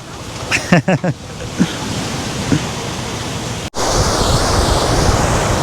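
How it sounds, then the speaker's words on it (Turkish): Strong wind at a beach on a tropical island roars as a steady broadband rush buffeting the microphone, with a few brief voice fragments early on before the gusts dominate. "acayip bir rüzgar var"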